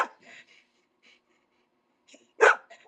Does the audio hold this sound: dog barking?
yes